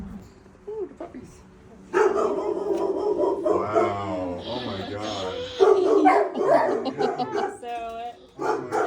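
Puppies yipping and barking at a dog shelter, with short bursts scattered through the clip alongside excited nearby talk from visitors.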